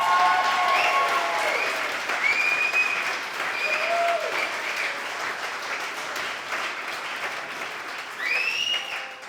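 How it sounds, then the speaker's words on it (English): Wedding guests applauding, a sustained wash of clapping from a roomful of people that swells at the start and again near the end, with faint voices and cheers mixed in. "so another round of applause, please."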